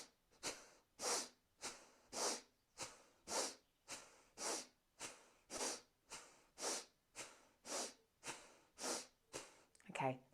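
Rhythmic, forceful nasal breathing from a hatha yoga breathing exercise, about fifteen sharp puffs evenly spaced at roughly one or two per second, close and clear with nothing else around them.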